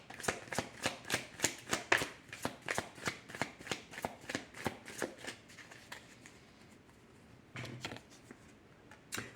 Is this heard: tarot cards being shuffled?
yes